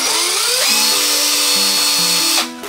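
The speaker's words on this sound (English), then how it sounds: "It's kind of like our drill launcher." An electric drill modified as a Beyblade launcher whines loudly and continuously, its motor pitch shifting up and down in steps as the trigger is worked, then winding down at the end.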